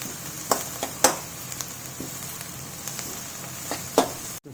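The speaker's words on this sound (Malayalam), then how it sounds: "ഉള്ളി ക്യാരറ്റ് ബീൻസ് ചെറുതായിട്ട് നന്നായിട്ടൊന്ന് വഴറ്റിയെടുക്കണം." Onion, carrot and beans sautéing in a pan make a soft, steady sizzle, punctuated by several sharp scrapes and clicks of stirring, fairly quiet and close.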